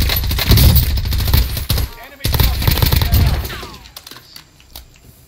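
AK rifle fire in a video game gunfight, loud rapid bursts cracking in quick succession, broken by short pauses and then trailing off into quieter scattered shots.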